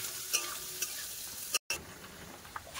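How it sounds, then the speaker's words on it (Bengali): Onions frying in a pan for a black chickpea curry, cooked until reddish: a steady broadband sizzle with occasional stirring scrapes and clicks, one brief dropout midway, no talking. "পেঁয়াজটা লাল করে খুব ভালো করে ভেজে নেবো।"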